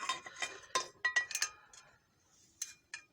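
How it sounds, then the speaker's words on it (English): A frying pan lifted off a stovetop burner in a home kitchen, with a run of sharp metallic clinks and knocks close by, followed by a quieter pause and two more light clanks. "Got this pan in the way, so I'm going to take it off."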